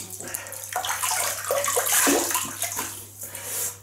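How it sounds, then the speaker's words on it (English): Water splashes from running water as a face is rinsed before a shave, continuous close splashing and trickling that swells in the middle and eases off toward the end, with no talking. "So I'm just going to rinse the face"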